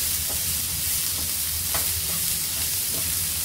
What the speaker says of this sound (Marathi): फक्त 2 मिनिटांसाठी आपण फक्त फ्राय करून घेऊया